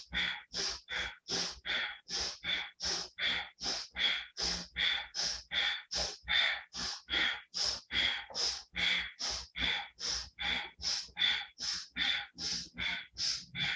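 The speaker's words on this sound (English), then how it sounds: "we are doing breath of fire" Rapid rhythmic breath-of-fire breathing during a Kundalini yoga session, a steady train of about two sharp nasal exhalations per second, close and clear, with no talking.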